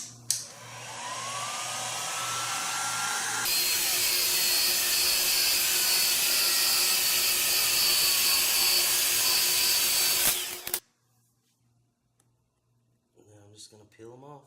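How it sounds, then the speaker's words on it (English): A loud, steady roar of a heat gun blowing air on motorcycle wheel decal adhesive runs for several seconds, then cuts off abruptly, followed by faint rustling and a brief voice. "now I'm going to take a heat gun"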